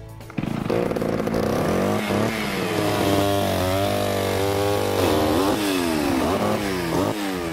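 A chainsaw runs steadily for firewood cutting, likely through red oak, its engine note rising and falling as it revs and bogs into the wood, loud and close throughout with no voices.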